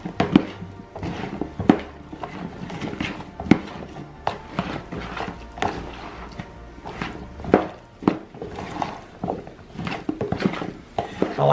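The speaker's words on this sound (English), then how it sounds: "Now I'm gonna mix all this together to coat the cauliflower" Broccoli and cauliflower florets tossed with salt and pepper in a bowl, giving a steady run of soft thunks, rustles and scrapes of mixing, fairly close and uneven, with no voice over it.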